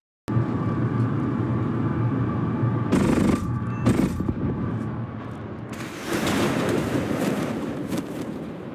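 Aircraft machine-gun fire in the video game War Thunder during a dogfight, with a short burst, a second brief burst and then a long sustained rattle over a steady engine drone, loud and up front.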